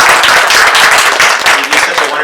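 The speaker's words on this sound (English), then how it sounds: "Maybe we can give a round of applause to all the librarian staff" Loud, close audience applause for library staff at a book talk, a dense wash of clapping hands filling the whole short stretch with no talk over it.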